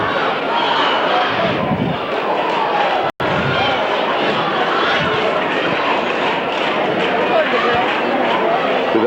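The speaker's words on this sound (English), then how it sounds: "the crowds, both sides, are very loud and vociferous" A loud, roaring crowd packed into a high-school gym for a 1990 substate basketball game between Pella Christian and Creston, a dense continuous din broken by one brief dropout, with commentary audible over it.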